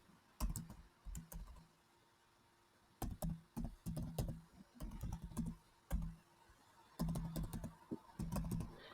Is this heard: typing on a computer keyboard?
yes